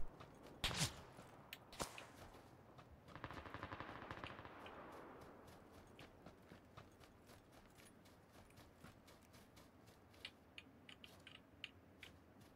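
Gunfire in PlayerUnknown's Battlegrounds: a few sharp shots early, then a burst of rattling fire fading into a long quieter tail with scattered light clicks and footstep-like taps.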